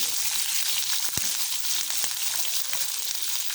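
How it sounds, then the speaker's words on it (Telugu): Tempering spices fry in hot oil for rice rava pulihora, making a dense, close, constant sizzle with an occasional sharp pop and no talking. "పోపు వేగిపోతుంది కదండి"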